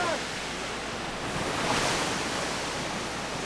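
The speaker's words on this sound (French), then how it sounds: "L'apparition d'une cascade éphémère." An ephemeral waterfall pours down a rock face in heavy rain on a French overseas island, a loud, steady, broadband rush of falling water that swells slightly midway and fills the whole scene.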